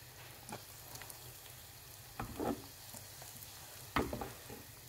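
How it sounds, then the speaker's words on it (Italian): Calamari frying in oil that has already cooked two earlier batches, in a Magic Cooker, with a soft steady sizzle and a few louder crackling bursts at intervals; nobody speaks. "quindi questa è la terza frittura sempre nello stesso olio"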